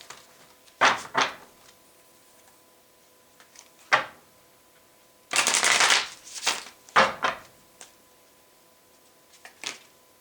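A tarot deck is shuffled in several separate bursts of riffling and bridging, with crisp card flutters spaced across the stretch and short quiet gaps between them, heard close and alone.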